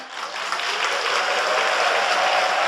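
A church congregation at an Easter Sunday service breaks into applause, dense and loud, rising quickly and holding steady.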